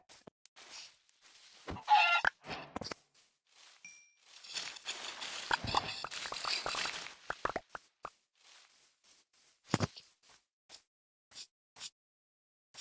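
Chickens cluck in the Minecraft video game: short, scattered clucks and plopping game sounds over a span of several seconds, fairly close, with no talk over them.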